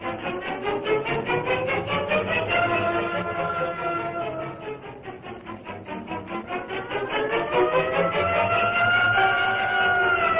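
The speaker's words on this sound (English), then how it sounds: "Call an ambulance, Miss Case" A wailing ambulance siren rises and falls in long continuous sweeps, loud and alone, as a vintage radio drama sound effect.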